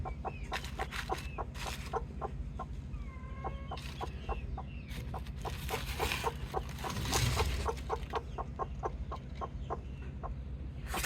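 A hen clucks repeatedly in short, evenly spaced calls, close and fairly loud, with a few other fowl and a steady low background hum around it; no one speaks.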